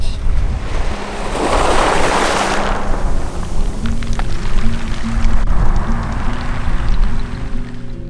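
Surf rolling onto a beach in Curacao, a steady close wash of breaking waves with one louder surge swelling and fading, all under constant wind rumble.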